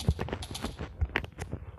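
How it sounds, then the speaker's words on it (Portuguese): Horse hooves clip-clop in a Minecraft-style video game, a quick run of light, close rhythmic thuds with small clicks between them, with no talking. "Amei que agora tem um cavalo."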